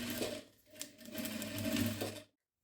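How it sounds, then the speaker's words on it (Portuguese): A sewing machine stitches a short seam on a rolled kitchen towel and finishes with a backstitch, giving a close, steady mechanical whir with a brief pause in the middle before it stops. "a gente vai fazer aqui uma costurinha e finalizar com o retrocesso"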